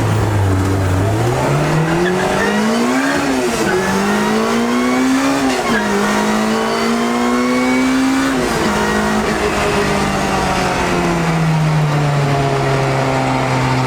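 A supercharged car accelerating hard, its engine note rising and falling through several pulls and gear changes, loud and continuous from inside the cabin, with tire noise beneath the roar and no talk.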